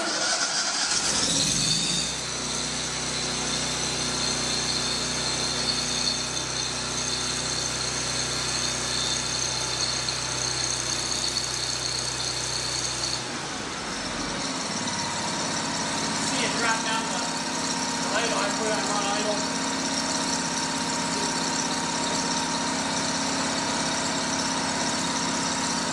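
A Miller Bobcat 265 welder generator's engine cranks, catches and settles into a steady, loud idle close by, its tone shifting partway through as the revs drop.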